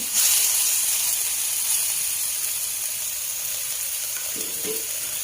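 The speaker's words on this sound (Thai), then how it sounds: "เราจะมาทำผัดพริกให้หอมเลยค่ะผัดไปอ่อนๆก่อนนะคะ" Blended boiled chili paste being stir-fried in a pan gives a steady, bright hiss and sizzle, with a couple of soft stirring scrapes toward the end and no talk.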